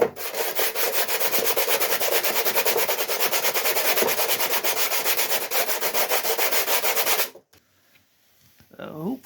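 Rhythmic back-and-forth hand sanding around a dent on a Ford Escort MK1 steel door panel, close and scratchy strokes for about seven seconds before stopping, followed by a faint short voice.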